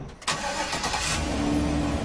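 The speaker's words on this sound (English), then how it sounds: "This may sound like a regular truck, but underneath it's been heavily modified." BGE Home work truck fitted with a full hybrid system, its engine catching with a sharp onset and then running at a steady, moderately loud mid-pitched idle with a faint whine.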